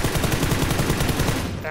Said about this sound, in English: I shot him right in the chest